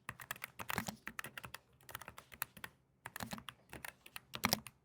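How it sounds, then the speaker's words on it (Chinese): Someone types on a Logitech G515 LIGHTSPEED low-profile mechanical keyboard, producing quiet, close clusters of rapid key clicks separated by short pauses. "最后面要讲的是机械式键盘最让人家阿杂的噪音"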